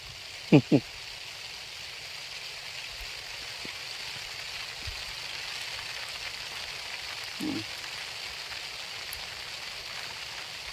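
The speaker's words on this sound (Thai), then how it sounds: "โอ้ยนี่ฝนตกเลยนะครับทุกคน" Steady hiss of rain falling on a yardlong bean plot, even and continuous, with a couple of brief voice sounds near the start and another one later.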